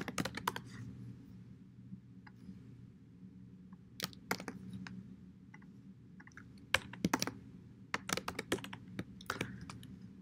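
C++ code being typed on a computer keyboard: scattered bursts of sharp keystrokes separated by short pauses, close and fairly quiet, with no talking.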